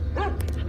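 A dog gives a single short, close bark, brief and fairly loud over a low background hum.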